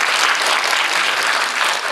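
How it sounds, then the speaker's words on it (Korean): Loud, dense applause from an audience at a government 3.0 public forum after a keynote presentation, a steady wash of many hands clapping throughout with no talking over it. "박수 치시죠."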